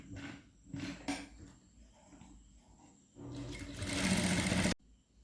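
A sewing machine stitches a kurti, with short bursts of stitching followed by a steady, louder whirring run that stops abruptly, close and clear.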